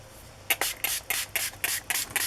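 Short bursts of spray from a can or bottle mist ink onto paper craft tags, about eight quick hisses in a steady rhythm, close and fairly loud, with no talking.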